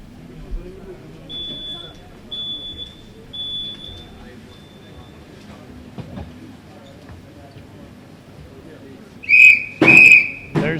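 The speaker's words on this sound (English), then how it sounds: "There's the whistle to get started with the next game." A loud whistle blast signals the start of the next game at a men's bowling World Cup, sounding twice near the end after quieter arena ambience with faint beeps and voices.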